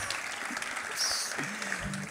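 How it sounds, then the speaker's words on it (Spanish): An audience at a folk singers' gathering claps steadily, a continuous wash of applause at moderate distance that holds through the whole stretch. "un aplauso para todos los que nos sentimos jóvenes a pesar de la edad."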